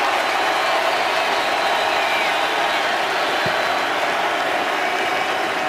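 A stadium crowd applauds Derek Carr as he walks to the Oakland Raiders sideline during an NFL game against the Buffalo Bills. The clapping and crowd noise form a dense, steady roar with no break.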